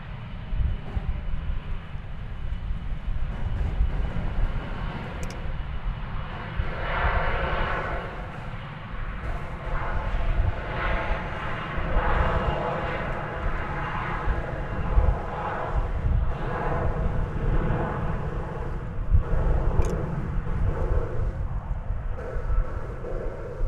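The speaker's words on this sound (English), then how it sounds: "There's American Eagle 3585. It's an Embraer 175. It's going to El Paso" An American Eagle Embraer 175 jet takes off at DFW Airport in Texas, a steady, loud broadband engine roar with low rumble holding throughout, no voices over it.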